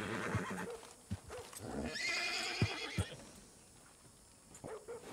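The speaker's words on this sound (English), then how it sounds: "I'm just calming the horse down there, Red." A horse in a video game neighs loudly in a long whinny, with a few snorts and thuds around it and no talking.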